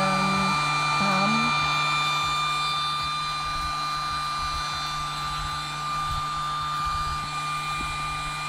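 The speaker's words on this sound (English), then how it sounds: "That very loud" A loud electric air pump whines and whirs continuously up close, a steady high-pitched mechanical drone with a low hum beneath.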